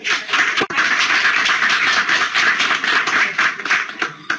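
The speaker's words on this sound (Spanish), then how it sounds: "Recibámosla con un fuerte aplauso." Audience applause welcoming a speaker at a water pollution conference, a loud continuous wash of many hands clapping close by, holding steady for several seconds.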